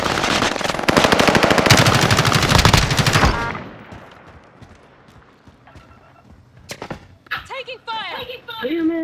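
Rapid machine-gun bursts in Call of Duty: Modern Warfare rattle loudly for several seconds, then fade into scattered footsteps, single shots and in-game voice callouts.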